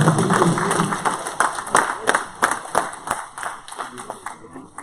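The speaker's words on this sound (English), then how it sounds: "Give the Lord a hand clap of praise." A church congregation claps in praise, a loud dense round of hand claps that gradually tapers off over a few seconds.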